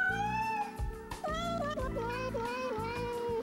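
Cats meow in melodic, sung-sounding phrases over a continuous musical backing, the cries rising and falling in pitch one after another.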